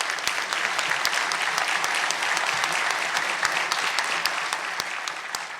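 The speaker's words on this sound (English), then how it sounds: "Let's give him a round of applause." Crowd at an energy summit in West Virginia gives a round of applause, continuous clapping at even strength with sharp individual claps standing out near the front.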